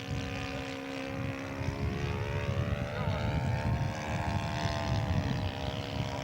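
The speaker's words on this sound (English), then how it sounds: "And his beautiful Aronca flies like a dream, almost as good as a Newport 28." Scale model Aeronca airplane flying at a show, its propeller engine giving a steady droning buzz with gently shifting pitch, fairly loud and continuous, with voices faintly mixed in.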